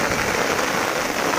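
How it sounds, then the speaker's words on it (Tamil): Heavy rain pours down steadily during a fishing outing, a dense, constant hiss close by with no break or voices. "மழை பல காட்டு காட்டுது"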